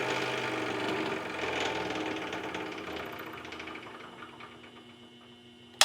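A DeWalt DW788 20-inch variable-speed scroll saw runs at low speed with a steady mechanical hum and light rhythmic chatter, its sound fading gradually before a sharp click at the end.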